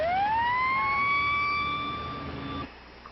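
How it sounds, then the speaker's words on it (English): A police car siren sounds during a recorded siren test, a loud wailing tone rising and holding steady before cutting off abruptly, heard on its own. "sound your siren."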